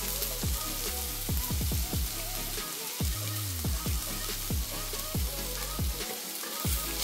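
Turmeric, asafoetida and masala sizzle in hot oil while cooking a mushroom vegetable dish, a steady loud crackle with repeated sharp pops and spatters throughout, no voices.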